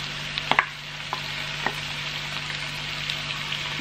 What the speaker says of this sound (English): ilalagay na natin yung ating cream of mushroom